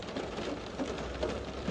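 Rain falling outdoors makes a soft, steady patter, fairly faint and continuous, with no other sounds.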